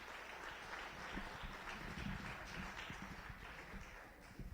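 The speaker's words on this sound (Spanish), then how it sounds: "Denle ofrenda de palmas al Señor" Worshippers at a church service clap their hands together as an offering to the Lord, a steady, dense patter of applause heard from a distance and fairly faint, with no talking over it.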